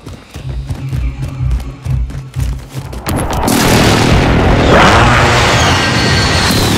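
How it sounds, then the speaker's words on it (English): A Call of Duty Modern Warfare precision airstrike: a run of low, rhythmic thumps builds into a sustained, loud roaring barrage of explosions that fills the rest of the clip. "Precision airstrike. Take cover."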